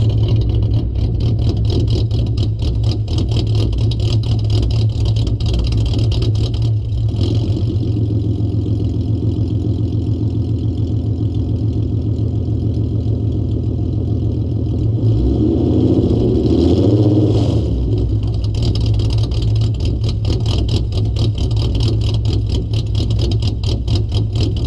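A car engine idling with an idle chop mod installed, a loud, steady lumpy rumble that runs without pause, with a brief rise in throttle near the end.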